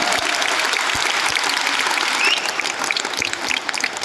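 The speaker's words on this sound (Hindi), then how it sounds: "आप अपने लिए जोरदार ताली बजाइए।" Audience members at an Amway Star Award event in Delhi clap loudly for themselves, a thick, sustained roar of applause that holds steady, then thins slightly toward the end, with a few distinct claps near the front.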